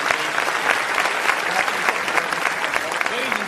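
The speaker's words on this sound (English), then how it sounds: "Round of applause." Dense, sustained applause from an auditorium audience fills the whole stretch, loud and steady with voices mixed in under the clapping.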